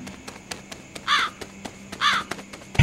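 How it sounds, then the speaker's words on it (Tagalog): A crow caws twice in clear, harsh calls about a second apart over a quiet background with faint ticking, ending in a brief thump. "Yan ay uwak ko."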